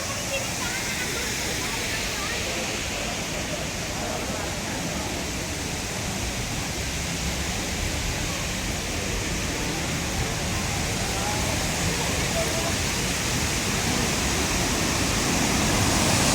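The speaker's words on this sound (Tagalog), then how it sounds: "finally nandito na kami sa Jipen Waterfalls" Shifen Waterfalls in Taiwan roar as a broad, steady rush of falling water, loud and continuous throughout, with no clear voices above it.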